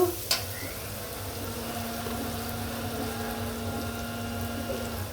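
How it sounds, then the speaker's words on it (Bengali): Spices hit browned onions in a pan for beef rezala, giving a sharp clink at the start and then a steady, close, even sizzle and hiss of frying that carries on without talking. "আমার পেঁয়াজটি লাল হয়ে গেছে, আমি এখন মশলা দিয়ে দিব।"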